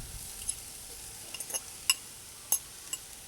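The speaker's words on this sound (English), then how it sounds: "I'm going to add my onions and my potatoes." Onions and sweet potatoes frying in butter in a pan on a camp stove outdoors, a soft steady sizzle with several brief crackles and pops.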